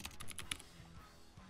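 A few quick keystrokes on a computer keyboard, faint and close, clustered in a short burst before falling quiet.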